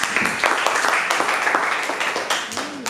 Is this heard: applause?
yes